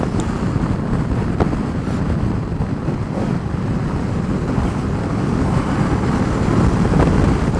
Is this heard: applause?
no